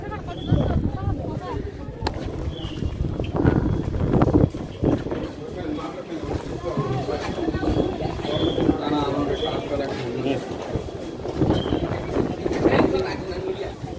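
Strong stormy wind gusts across the coast at Talsari near a fish market, buffeting the microphone with rough low rumbles while someone talks over it throughout.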